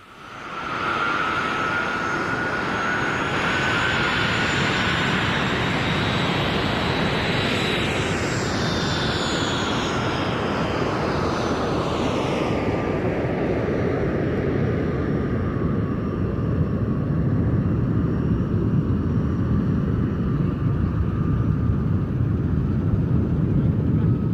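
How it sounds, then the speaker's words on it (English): Ex-RAF Jet Provost Mark V jets of a two-ship display team flying at a Duxford airshow, a loud sustained roar with a whining turbine tone that sweeps downward in pitch as the aircraft pass, steady and continuous throughout. "The Jet Provost duo is a new UK team flying ex-RAF Mark Vs."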